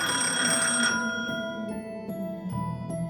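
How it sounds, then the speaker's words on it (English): A landline telephone rings in a quiet house, a bright sustained bell tone that sounds once and fades, followed by a few fainter chiming rings; close and alone without talk. "suddenly the phone rang."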